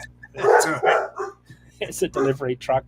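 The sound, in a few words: dog barking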